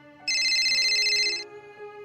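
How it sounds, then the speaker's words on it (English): A work phone rings in a dark thriller audio drama with a bright electronic ringtone that sounds once for about a second, clear and close, with no voices over it. "My work phone rang, breaking up the day."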